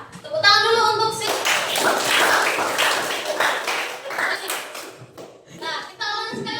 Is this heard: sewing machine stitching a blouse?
no